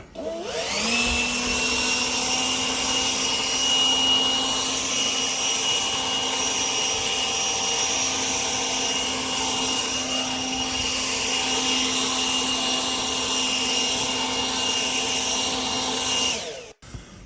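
A leaf blower clears debris from a forest driveway, its droning motor whine running loud and steady throughout at close range before cutting off at the end.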